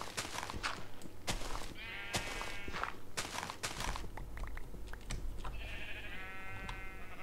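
Sheep in the video game Minecraft bleat twice in wavering calls amid steady footsteps crunching across the ground.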